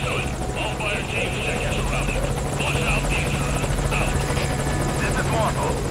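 Helicopter in the video game Metal Gear Solid V: Ground Zeroes, a steady loud rotor drone with a rapid chopping buzz that holds throughout, with a game voice faintly under it.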